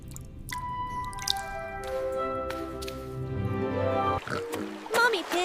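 Water drips echo in a cave, with resonant plinking tones ringing out and a few louder splashes near the end.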